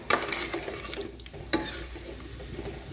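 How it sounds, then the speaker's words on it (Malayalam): Amla being stirred into rock sugar syrup in a pan on the stove, with soft sizzling and a few scraping strokes of a spoon near the start and middle. "നെല്ലിക്ക ചേർത്തിട്ട് ഒന്ന് നല്ലോണം ഇളക്കി കൊടുക്കാം"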